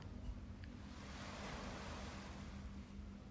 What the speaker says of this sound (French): bercé par les vagues de Marsa Alam